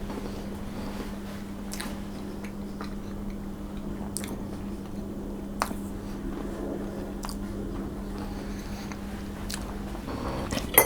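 Someone biting into and chewing a slice of Nutella crumble cake with a filling; soft, moist chewing and squishing sounds recur through a steady low hum, with a few sharper bite clicks and no talking.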